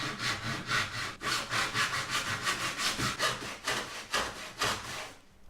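Hand saw cutting through a thick 16-inch run of plywood, rhythmic rasping back-and-forth strokes, close and steady, with no talking.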